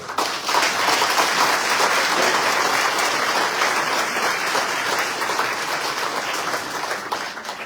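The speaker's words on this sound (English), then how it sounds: "if you would like to applaud the mayoral candidates, this will be your opportunity to do so" An audience at a mayoral debate in Meridian, Mississippi, applauding the candidates, a full, dense wash of clapping that stays loud and steady before easing slightly toward the end.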